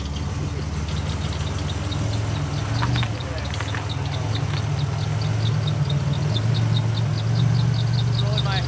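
A Buick Grand National's engine runs at a steady idle while the car is put in gear and backed out, a close, continuous low rumble with faint ticking above it.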